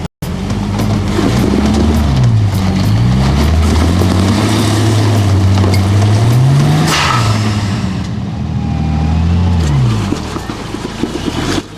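A 4WD engine, including a Toyota Hilux, revs hard and loud while trying to climb a muddy off-road obstacle, with the pitch repeatedly rising and falling as throttle surges, close and continuous before easing near the end.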